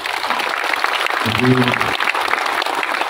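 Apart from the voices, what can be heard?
audience applause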